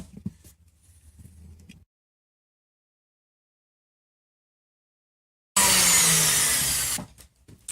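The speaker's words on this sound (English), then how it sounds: "let's put a sander on this and see what comes out as a result." A power sander works a guitar fretboard during a radius job, starting with quieter scraping and handling noise, then a long silent gap, then a loud close whir that runs for about a second and a half before cutting off.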